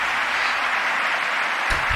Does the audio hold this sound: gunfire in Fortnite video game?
no